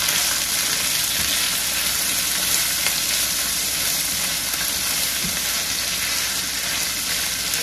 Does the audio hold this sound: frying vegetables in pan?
yes